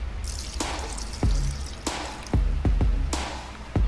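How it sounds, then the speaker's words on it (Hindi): Milk poured into a mixer grinder jar already holding cashews and other ingredients for a homemade protein shake, giving a series of short liquid splashes and drips, close and moderately loud, with no talk. "सब कुछ जार में डाल दिया है। अब अपन डालेंगे दूध"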